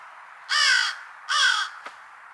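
Two loud crow caws ring out outdoors in quick succession over steady background hiss, followed by a brief faint click.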